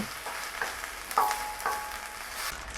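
Chicken with spices being stirred in a hot pan, a soft continuous sizzle broken by a few scraping clinks of the utensil against the pan, fairly quiet and with no talking.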